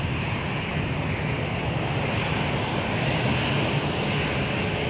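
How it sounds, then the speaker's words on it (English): A jet airliner at Toronto Pearson Airport roars loudly and steadily, its broadband engine noise filling the whole stretch without a break. "That is a beautiful aircraft"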